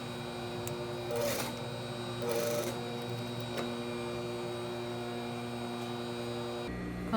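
A sewing machine stitches a bodice seam with a steady mechanical whir, marked by a couple of brief louder bursts of stitching over a constant low hum.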